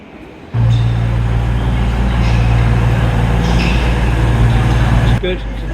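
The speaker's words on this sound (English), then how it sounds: "That was my train, up on its way." A train pulls out of a station in Newton Abbot, its loud, steady low rumble and engine drone rising abruptly and holding for several seconds before cutting off, with talk nearby.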